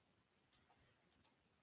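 Mouse clicks while working in Power BI: three faint, crisp clicks, one alone and then a quick pair, close and isolated over near silence.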